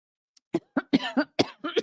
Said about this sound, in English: Coughing and sneezing.